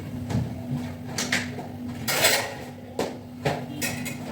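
A spoon and dishes being handled in a kitchen, a series of close metallic clinks and knocks with a loud clatter midway, separated by short pauses.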